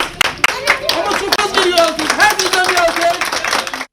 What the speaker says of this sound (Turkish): Hümaya bir kocaman bir alkış alabilir miyiz?